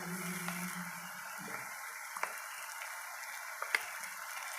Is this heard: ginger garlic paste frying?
yes